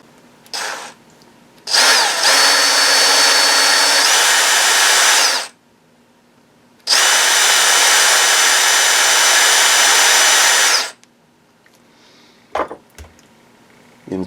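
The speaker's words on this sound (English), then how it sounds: "I think I need to go through there just a little more with the drill." A power drill with a 1/8 inch bit bores through a shift plate on an IROC-Z. It runs in two loud, steady bursts of about four seconds each, separated by a short pause, with light handling clicks before and after.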